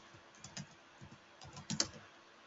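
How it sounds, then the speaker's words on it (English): A computer keyboard clicks as a contact name is typed into CRM software, with irregular bursts of quiet, close keystrokes and short pauses between them. "That we do by typing in the contact name"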